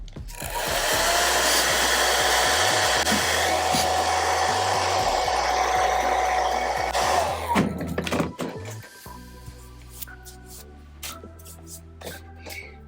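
A hair dryer on its low setting blows steadily and loudly for about seven seconds while drying lace wig glue, then cuts off, leaving soft handling noises and light clatter.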